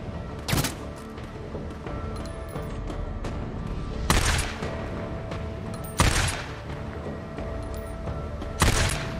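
Unsilenced gunfire in the video game Days Gone: four loud, sharp shots spaced a couple of seconds apart, each ringing out over a steady backdrop of game ambience and music.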